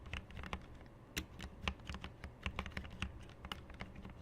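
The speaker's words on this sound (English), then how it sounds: "Anyways, keyboard sounds." Close, crisp keyboard typing in an ASMR setting, with irregular bursts of key clicks and clacks tapping along steadily with no talking.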